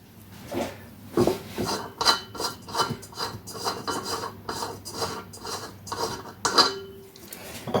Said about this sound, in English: So just screw these together,